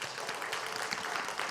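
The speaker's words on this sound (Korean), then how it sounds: "우리 박수로 격려하고 환영하도록 하겠습니다." Church congregation clapping during a Sunday service, a dense, fairly faint patter of many hands for a short moment.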